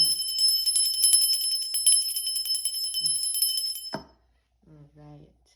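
A small handheld bell rung to clear energy before a card reading gives a bright, sustained ringing with steady shimmering overtones for about four seconds, then cuts off, followed by a short spoken phrase.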